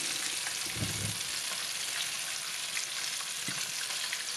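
Fish shallow-frying in a pan for a crispy fish dish with fish sauce, giving a steady, close sizzle and crackle of hot oil throughout, with a brief low bump of the pan or fish being moved near the start and again later.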